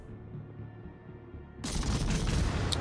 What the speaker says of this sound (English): I'm not too proud to take free damage, so I start firing at it